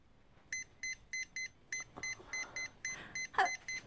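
A phone keypad gives a quick series of short electronic beeps, about a dozen evenly paced tones as digits are entered, close and clear with faint voices in the background.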